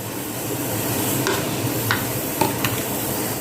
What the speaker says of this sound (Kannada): ಒಳ್ಳೆ ಮಿಕ್ಸ್ ಮಾಡಿ ಸಣ್ಣ ಉರಿಯಲ್ಲಿಟ್ಟು ಮಿಕ್ಸ್ ಮಾಡಿಕೊಳ್ತಿದ್ದೆ